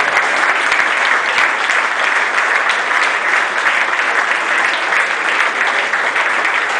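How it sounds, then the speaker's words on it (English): An audience at a men's conference worship service gives a round of applause, a dense, steady, loud clapping that fills the room and holds evenly throughout. "So let's give him a round of applause."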